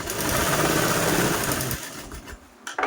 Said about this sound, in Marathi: जिथपर्यंत आपली मार्किंग होती तिथपर्यंत मी ही झिप स्टिच केली